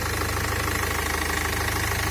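A Nissan NV400 van's diesel engine idles nearby with a steady, even knocking rhythm and a constant low rumble, running smoothly without misfiring.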